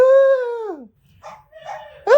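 A dog gives a single long drawn-out howling bark, followed by quieter scattered animal sounds and a fresh yelp at the end, heard close and alone.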